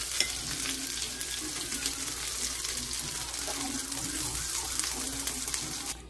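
Salmon fillets fry in a pan with a steady, even sizzle throughout, and a faint scrape of turning or stirring now and then.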